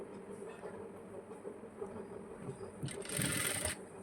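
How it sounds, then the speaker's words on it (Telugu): A sewing machine stitches a blouse, running steadily up close with a fast mechanical whir. A brief higher, louder burst comes near the end. "ఇలా ఒక కుట్టు కుట్టిన తర్వాత ఇలా తిప్పి పైన ఒక కుట్టు కుట్టి ఈ యువతల సైడ్ అంతా కుట్టేస్తే"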